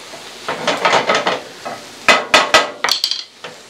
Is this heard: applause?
no